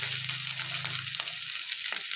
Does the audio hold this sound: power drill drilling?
no